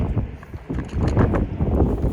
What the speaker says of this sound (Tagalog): Ang hangin-hangin.